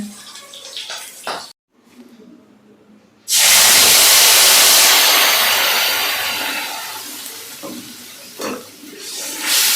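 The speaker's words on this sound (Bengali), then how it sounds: "তেলটা যেতেই ভয় লাগছে, ফুটে ফুটে উঠছে" After a brief quiet gap, fish goes into hot oil and a loud burst of hissing, spattering oil erupts and continues, fading slightly, with a voice faintly before and after.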